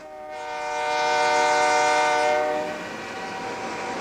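An Algoma Central Railway northbound tour train passes the Algoma Steel Plant near Sault Ste. Marie, its chorded horn blasting loud and sustained for about two seconds before fading into the rumble of rolling cars.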